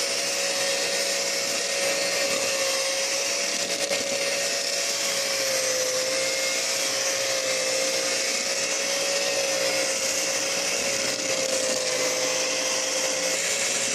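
An electric mixer whirs continuously as eggs are beaten one at a time into cake batter, a steady high-pitched motor whine with a slight dip in pitch midway, close and loud with no talking.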